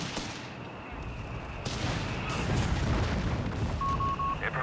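Dense battlefield gunfire and heavier assault-gun shots from Company of Heroes 3, including an Italian assault gun firing, rolling on continuously and loudly with overlapping bursts and booms throughout.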